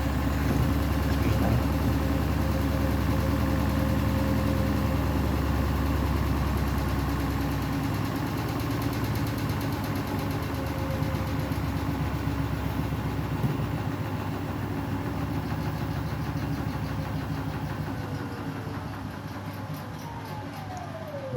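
A Beko WTK104121W washing machine runs a sudsy final spin cycle, giving a steady loud drum rumble with a whine that eases and lowers toward the end, with no talking.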